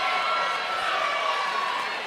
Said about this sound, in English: Did that crowd just get twice as loud?